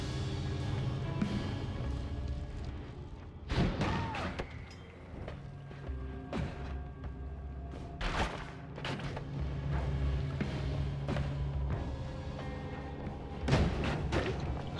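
Explosions in the video game Noita go off as repeated booming thuds, several loud bursts spaced across a steady layer of game sound effects and ambient rumble.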